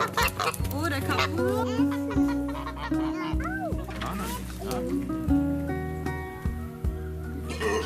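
Chickens and geese on a farm in Rhineland-Palatinate, clucking and calling close by in a busy barnyard, with a steady tonal hum and other background activity running throughout.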